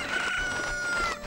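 A rooster crows in The Legend of Zelda: Ocarina of Time, one drawn-out stretched cock-a-doodle-doo over soft game music, clear and close.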